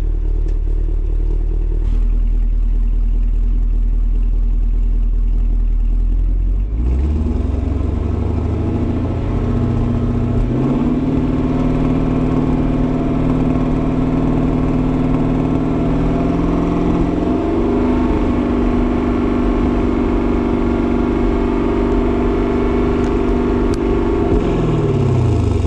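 A car engine idles with a deep exhaust rumble, then revs and holds at higher pitch before settling, loud and close throughout.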